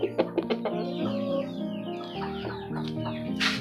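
A chicken suffering from a respiratory illness clucks and gurgles in a rapid series of close, moderately loud calls, with a raspy, rattling quality running underneath and a brief burst of noise at the end.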